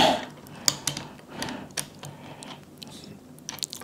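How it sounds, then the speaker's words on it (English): A small wrench tightens a nut and bolt while a Milwaukee Fuel string trimmer is being assembled, producing close, irregular metallic clicks and ratcheting ticks with soft handling rustle between them. "take the little wrench they gave you"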